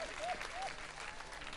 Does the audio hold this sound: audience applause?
yes